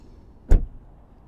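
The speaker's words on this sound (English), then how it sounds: "This one also has the automatic running boards, so they'll open or close depending on if you open up or close the door as well." A 2025 GMC Yukon XL AT4's automatic running board deploys as the door opens, giving a single short, fairly loud mechanical thump with a brief whir, then quiet.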